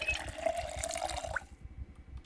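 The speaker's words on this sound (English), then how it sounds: "let's fill up our water" A tap fills water in Project Zomboid on a foggy day, a faint running splash that stops after about a second and a half, leaving quiet background game sounds.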